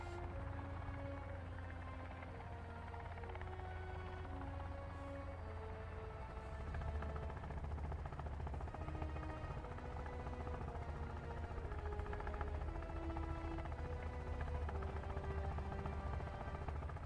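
Helicopter engine in Sons of the Forest, a steady low rotor drone under a soft musical score, growing slightly louder partway through.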